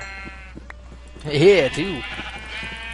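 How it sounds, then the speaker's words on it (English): Sheep bleat in the video game Minecraft, a loud wavering cry rising and falling for about a second, with someone talking before and after it. "there's a lot of sheep around here"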